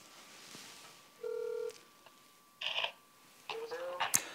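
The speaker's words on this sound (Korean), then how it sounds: "전화로 연결해 보겠습니다" A telephone call connects on a broadcast phone interview: a tone beeps, a short burst of line noise follows, then further tones and a voice picking up over a faint, steady line hum.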